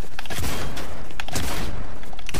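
Bursts of gunfire aimed at the player crackle through a Fortnite-style video game in solo reload mode, loud, dense and repeated shots filling the whole stretch without speech.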